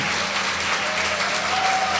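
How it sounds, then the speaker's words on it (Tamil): Audience applause at a Women's Day panel discussion, a steady wash of clapping from a seated crowd that holds evenly for the whole stretch, with no speech over it. "உங்கள் கைத்தட்டல் மூலமாக வாழ்த்தி"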